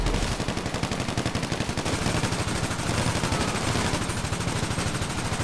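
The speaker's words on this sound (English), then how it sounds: "I'm just shooting. I don't know what I'm hitting, but I'm shooting." Rapid automatic gunfire in GTA V Online, a fast, relentless stream of loud shots that continues without a break against a dense, noisy game backdrop.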